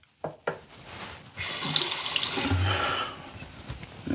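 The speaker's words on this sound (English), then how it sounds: "Now, let's get the razor wet." A tap runs into a sink to wet a Blackbird Ti Lite safety razor, opening with a couple of clunks before a steady close rush of water that swells and then eases off.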